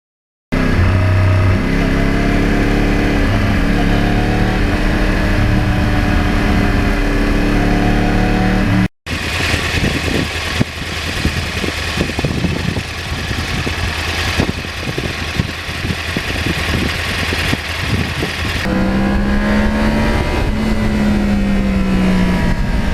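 A Yamaha R1 crossplane 1000cc sport motorcycle runs loud and close: a steady idle at first, then after a brief cut, revving and rising engine pitch as it pulls away and shifts.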